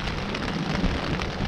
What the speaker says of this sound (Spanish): esta gran lluvia que está cayendo